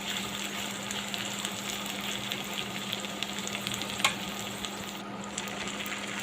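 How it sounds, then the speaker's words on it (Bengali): Steady, even sizzling of beef tripe frying in a hot pan, with a constant hiss and an occasional clink of stirring. "আমার এটা ভাজা ভাজা হচ্ছে"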